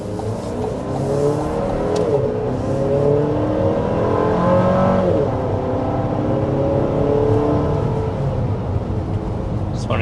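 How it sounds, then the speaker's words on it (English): A 2025 Chevy Traverse High Country accelerates hard in sport mode, its engine note climbing steadily through gear shifts, heard from inside the cabin as a loud, sustained drone. "Want to show off a sport mode acceleration there."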